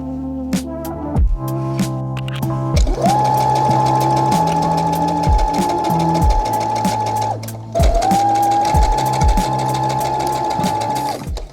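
A sewing machine top-stitching a collared top runs in loud, close bursts of steady whirring, broken by short pauses and two longer runs, with no talk.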